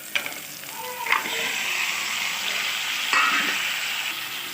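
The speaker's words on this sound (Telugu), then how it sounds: "నెక్స్ట్ మటన్ వేసుకుందాం." Pieces of mutton for a mutton curry hit a hot pan of frying onions and sizzle loudly and steadily, with a few sharp clinks of a spoon stirring against the pan.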